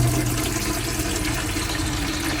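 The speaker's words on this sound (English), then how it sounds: "So if I pour the water through," Water pours from a tap into a bathroom sink aboard a Nu Venture Nu Rio 70-foot yacht, a continuous close rushing splash that holds steady throughout.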